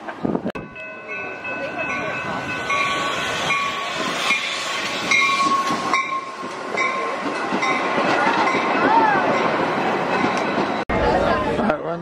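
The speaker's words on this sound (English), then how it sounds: "All right, we're on the train." A train runs steadily with a continuous rumble and rattling, heard from inside a carriage at close range, with a faint horn-like tone and people talking over it.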